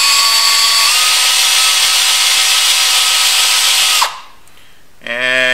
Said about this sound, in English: you put the loop over the paper clip, and you hold it out straight, and you turn on the drill.